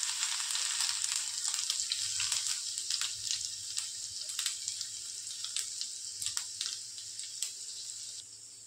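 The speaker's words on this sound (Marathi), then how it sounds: "लसूण घालते" Garlic frying in hot oil with mustard seeds and cumin, a bright crackling sizzle with sharp pops and spatters that thins toward the end, close and without talk.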